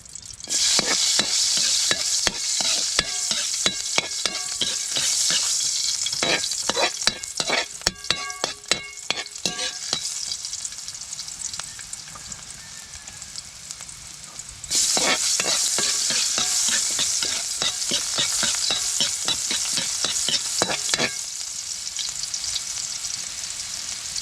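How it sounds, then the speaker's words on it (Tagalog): Tomatoes sautéing in a pan, with a steady bright sizzle throughout and repeated clacking stirs of a utensil against the pan, busiest in the middle and again near the end; close and fairly loud, no talking. "sasagan po natin ang kamatis"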